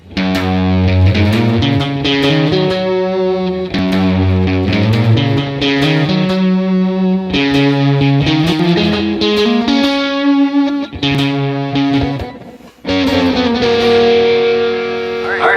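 An overdriven electric guitar plays twangy two-note double stops in a quick country phrase, sliding between pairs of notes with a short pause near the end.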